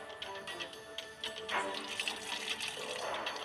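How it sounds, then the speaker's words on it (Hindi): Pond water pours into freshly milked buffalo milk in a Hindi cartoon, a steady splashing trickle of liquid running for a few seconds. "उसमें तालाब का पानी मिलाया।"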